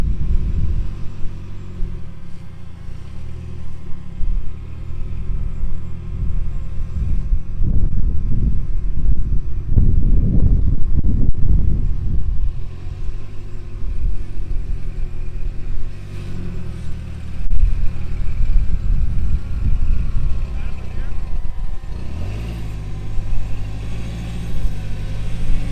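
A Toyota off-road vehicle crawls over a rock obstacle on the Moab slickrock trails. Its engine gives a low, continuous rumble that swells and strains in the middle, with wind buffeting the microphone.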